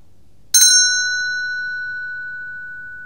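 A single bright bell is struck once during a magic pendulum trick at a magicians' society evening, its clear metallic ring sustaining and slowly fading over several seconds in a quiet room.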